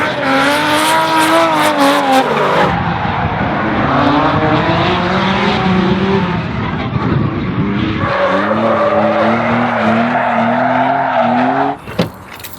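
Drift cars at Driftland skid past with loud, sustained tire squeal and engines wailing and shifting pitch over about twelve seconds, close and continuous before dropping off sharply at the end.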